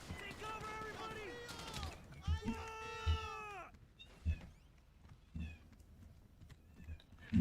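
A cat lets out two or three drawn-out, wavering meows close by, followed by scattered soft thumps and low background noise.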